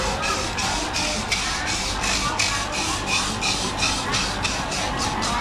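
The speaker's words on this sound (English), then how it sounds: "grinding away at the coconut" Coconut being grated by hand at a market stall, a regular rasping scrape repeated about twice a second in a steady rhythm, close by over a low bed of market bustle and faint background voices.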